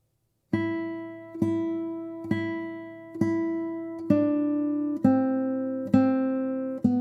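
Single plucked guitar notes of the Romanza melody, played without the bass line, ring out one at a time in a slow, even rhythm, each decaying before the next; clean and close, with no talking.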